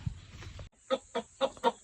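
A rooster clucks four times in an even rhythm, short and close, after a moment of low rustling background noise.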